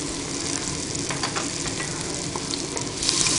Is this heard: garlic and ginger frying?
yes